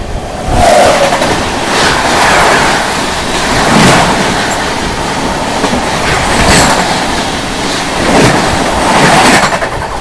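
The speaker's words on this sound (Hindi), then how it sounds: "सामने से आ रही है Nizamuddin Vasco D gamma Goa express" The Nizamuddin–Vasco da Gama Goa Express rolls past on a crossing track near Lalitpur Junction, loud and close, with rhythmic clickety-clack of wheels over rail joints and a continuous rumble.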